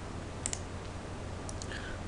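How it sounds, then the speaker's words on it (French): Keys pressed on a computer keyboard while working in Cinema 4D, heard as a few faint, close clicks in two small clusters over a low steady hum. "On clique sur Darky, on fait la touche C du clavier"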